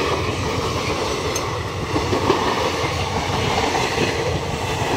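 A train rolls past fairly close, a steady heavy rumble with wheel clatter, continuous throughout and with no voices.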